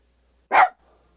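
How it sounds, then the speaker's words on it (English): A dog at a pickup truck camper lets out one sharp, close bark at passing people, followed by near silence. "You barking those people?"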